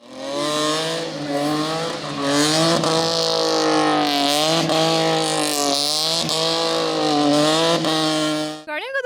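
Modified car engines at an auto show in Multan roar loudly and continuously, with revs rising and falling in waves before cutting off abruptly near the end.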